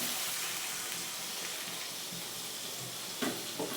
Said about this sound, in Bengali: এবার আমি জলটা এর মধ্যে অ্যাড করে দিচ্ছি।